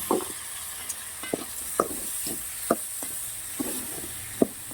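Tomatoes sizzling in hot oil while a curry of turkey berries (sundakkai kuzhambu) cooks, with a steady frying hiss and irregular sharp pops and stirring clicks scattered throughout, no talking.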